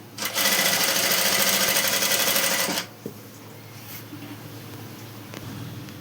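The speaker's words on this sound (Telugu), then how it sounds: "ఇప్పుడు మనం చుట్టూ ఇలాగ నీట్గా లైనింగ్ అంతా చుట్టూ కుట్టుకుందామండి." Sewing machine running steadily as it stitches lining around the edge of an umbrella frock, a loud continuous mechanical whir for nearly three seconds that stops abruptly, followed by quiet room tone with a faint click.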